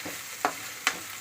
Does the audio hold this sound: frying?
yes